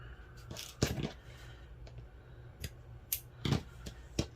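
Scissors snip sewing thread after a knot is tied off while making a felt slow-stitch needle book: a few short, crisp cuts scattered across a quiet room, close and fairly soft.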